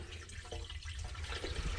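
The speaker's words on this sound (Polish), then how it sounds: "Woda sobie delikatnie przepływa, tak żeby filtracji nie zatrzymać na zimę." Water flowing gently through a garden pond filter in an insulated room during winter, a soft continuous trickle and burble, quiet and steady.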